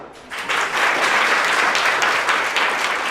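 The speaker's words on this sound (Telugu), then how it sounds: "చప్పట్లు కొట్టరా." A class of students clapping together, a dense steady burst of many hands that swells quickly and holds at an even, fairly loud level throughout.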